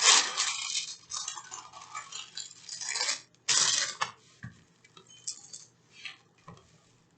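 A cat plays with a small ball indoors. Light rolling, ticking and clinking sounds come in scattered bursts with quiet gaps between them, and no one speaks.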